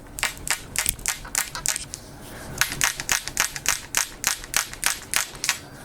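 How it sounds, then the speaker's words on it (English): Creaking and clicking from the hilt of an LK Chen Striking Eagle two-handed Chinese sword, wooden slats flexing against the steel tang, in a rapid series of crisp bursts, close and fairly loud with no talking. "that is the sound of the wooden slats either side of the steel tang flexing"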